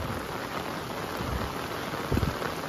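Heavy rain pours steadily over a mountain village, a dense, even roar of drops hitting surfaces with no break, and a few slightly louder spatters near the end.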